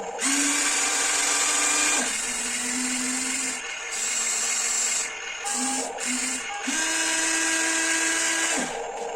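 A HUINA 1594 RC excavator toy whirs with electronic motor and hydraulic sound effects, a buzzing whine that starts and stops in short bursts and longer runs.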